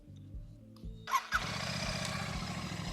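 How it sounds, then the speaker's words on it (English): A Royal Enfield Classic 650 motorcycle engine starts with a sharp burst, then settles into a loud, steady, thumping idle with a low rhythmic pulse, with a little revving. "This is how the bike sounds like at idle. And a little bit of revs."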